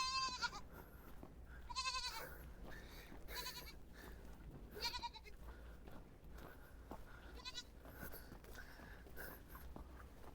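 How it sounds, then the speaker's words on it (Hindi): Mountain goats bleat several times during a steep roadside climb, with wavering cries rising over a windy outdoor background, some louder and nearer than others. "पहाड़ी बकरी।"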